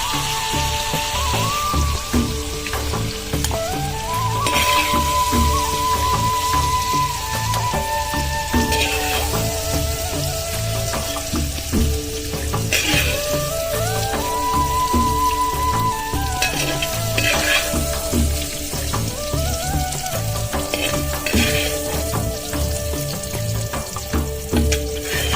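Spices for rose apple pickle temper in a pan with a continuous crackling sizzle and occasional stirring, while melodic background music plays throughout.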